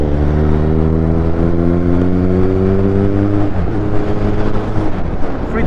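A Kawasaki inline-four superbike engine revs close by, holding a loud, steady harmonic drone that climbs in pitch, then drops back into a rougher, lower rumble.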